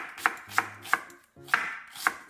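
A knife thinly slices onion on a cutting board, making about five crisp, evenly spaced chops close up with no other sound.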